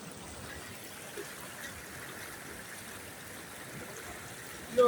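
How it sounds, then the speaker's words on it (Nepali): A small, very cold mountain stream flows in the hills of Gulmi, a soft steady trickle and wash of water, faint and continuous, with a brief louder bump at the very end. "यो चाहिँ सानो खोला हाम्रो।"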